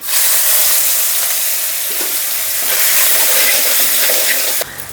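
Curry leaves crackle and sizzle in hot tempering oil with dried red chillies, mustard seeds, cumin and turmeric for a brinjal chutney, a loud steady frying hiss running nearly throughout before cutting off abruptly at the end.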